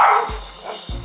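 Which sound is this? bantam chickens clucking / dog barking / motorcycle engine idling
dog barking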